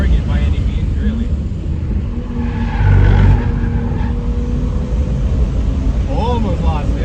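Car lapping a race track at speed during a track day, engine and road roar filling the cabin continuously and loudly, with people talking over it.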